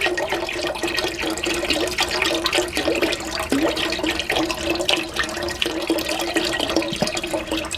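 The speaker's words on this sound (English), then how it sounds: "So add the stock into your water." Liquid stock pours steadily into a pot of water for a cabbage soup, a continuous splashing, gurgling stream that stays close and fairly loud throughout, with no talking.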